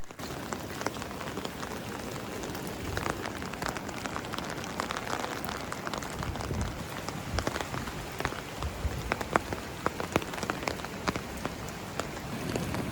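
Steady, dense rainfall on the coast of Vancouver Island by the ocean, a close, continuous hiss of drops with scattered sharper patters throughout and no talking.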